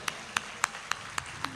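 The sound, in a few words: audience clapping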